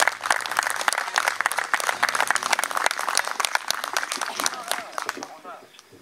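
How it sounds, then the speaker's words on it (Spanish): Audience applause at a poetry gathering: lively, fairly close clapping from a small crowd, sharp individual claps standing out in an irregular burst that tapers off toward the end, with a voice talking faintly underneath. "el aplauso fuerte para él"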